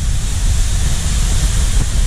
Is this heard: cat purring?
no